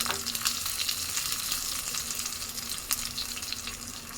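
Curry leaves and chillies sizzle in a hot tempering pan for a banana-curd pachadi, a steady close hiss of spattering oil with occasional louder crackles and stirring, no voices.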